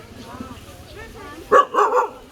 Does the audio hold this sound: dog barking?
yes